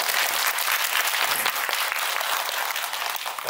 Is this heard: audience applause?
yes